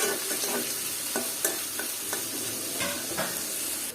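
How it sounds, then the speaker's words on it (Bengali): Chopped onions are stirred and fried in a pan used earlier to fry chicken roast pieces. A loud, steady sizzle runs throughout, broken by repeated scraping and tapping of a spatula against the pan. "আর যেটাতে আমি রোস্ট ভেজে নিয়েছি ওটাতে আমি দিয়ে দিব পেঁয়াজ কুচি। আর এটাকে এখন নেড়ে চেড়ে দিব।"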